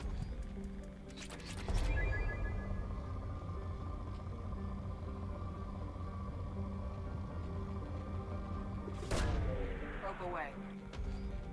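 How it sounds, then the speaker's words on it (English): Planet-scanning probe launching in Mass Effect 2: two sharp whooshing bursts about seven seconds apart over a humming, rumbling ship ambience, with a voice speaking in between. "Launching probe."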